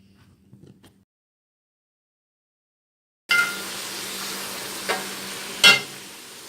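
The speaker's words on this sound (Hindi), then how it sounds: "हम इसके अंदर जो हमने प्याज चॉप किए हैं वो सारे हम इसके अंदर डाल देंगे और उनको लाइट ब्राउन करेंगे।" A brief faint clink, a pause of silence, then chopped onions for chicken biryani hit hot oil with a sudden loud sizzle that keeps crackling steadily, with a couple of stirring scrapes.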